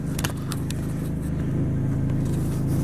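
A 2000 Plymouth Neon engine idles close by with a low, throaty, steady rumble, with a few brief metallic clicks near the start.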